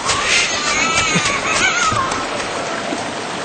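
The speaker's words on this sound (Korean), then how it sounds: "위험을 느낀 양이와 새끼들의 울음소리가 소름이 끼칠 정도로 처절하게 변했다" A cat and her kittens cry out in distress beside a swollen, fast-flowing stream during heavy rain, their wails rising over a steady wash of rushing water.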